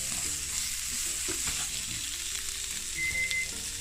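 Vegetables tossed and sautéed in a pan over medium heat give a steady close sizzle, with a few soft scrapes and clinks as they are stirred and turned, and no one speaks.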